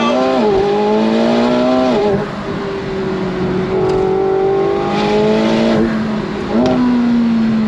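A 2024 McLaren 750S Spider supercar accelerates hard on throttle, its engine note rising loud and close through several gear shifts with brief dips between pulls.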